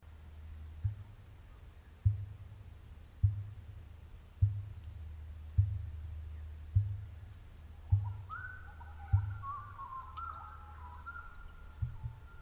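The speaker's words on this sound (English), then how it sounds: "If you're able to hear that drumming sound, that is the emu." Emu drumming call, a low, deep thud repeated about every second in a steady pulsing rhythm, fairly close and clear, with a faint higher whistle-like tone appearing partway through.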